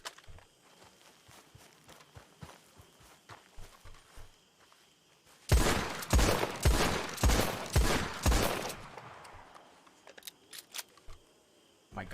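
Rapid crisp clicks and metallic clacks of a gun being reloaded in a Wild RP video game, a sparse ticking run that bursts into a loud cluster of sharp, evenly spaced snaps before fading back to scattered clicks.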